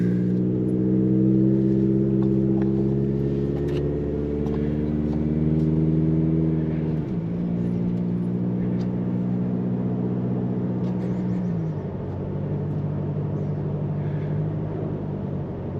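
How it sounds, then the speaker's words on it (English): A 2018 Toyota Tacoma 2.7 with a Borla cat-back exhaust drones steadily while cruising on a street, engine tone shifting as it changes gear twice, heard from inside the cab without talk. "you can barely hear the exhaust system right now"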